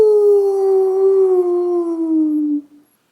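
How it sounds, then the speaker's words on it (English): A lone wolf gives a long, clear howl that slowly slides lower in pitch before fading out, with no one talking. "she hears some howling off in the distance"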